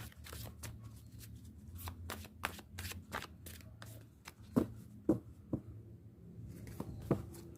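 Tarot cards being shuffled up close, a steady run of quick papery riffles and slaps with a few sharper knocks near the end, heard alone without talk.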